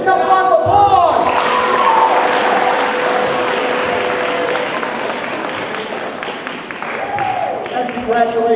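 An audience at a hypnotist's stage demonstration applauds itself, sustained clapping with some cheering and a voice talking over the start and end.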